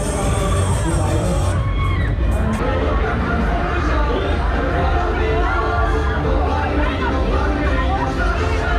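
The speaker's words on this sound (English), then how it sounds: "Plus, of course, rides to make you scream." Crowds scream on fairground rides at the Tilburg kermis, a dense, loud wash of shrieks, whoops and chatter that rises and falls continuously, with ride and fair noise underneath.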